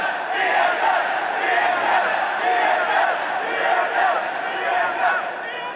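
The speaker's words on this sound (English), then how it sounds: "you get a fantastic applause" A large crowd at an esports match between Dark Passage and Samsung White roars and cheers for the team in a continuous, loud wash of voices and applause that swells and dips slightly.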